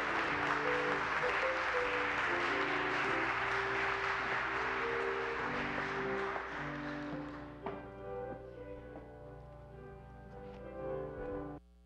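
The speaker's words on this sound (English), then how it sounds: "let's do one more round of applause for this incredible" A church congregation applauds during a worship service. Steady, fairly full clapping fades out after about six seconds, leaving sustained organ or keyboard tones ringing on alone.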